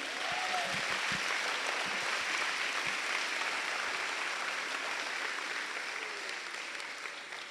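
A church congregation applauding during a sermon, steady dense clapping from a large crowd that holds for several seconds and then slowly tapers.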